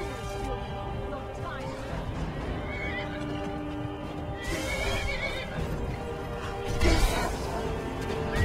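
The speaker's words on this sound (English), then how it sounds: "My horse is fighting my own dog." A horse neighs and whinnies while fighting a dog in the Skyrim video game, with hoof clatter and scuffling over steady game music and ambience; the loudest whinny bursts near the end.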